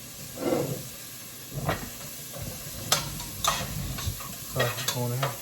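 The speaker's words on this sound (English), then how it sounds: "I put a little butter in with the onions so that I can caramelize those real quick." Onions in butter cook in a non-stick skillet on a high burner: a low sizzle runs throughout, broken by several scraping stirs and clinks of the utensil against the pan.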